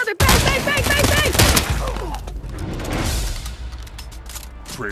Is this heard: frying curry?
no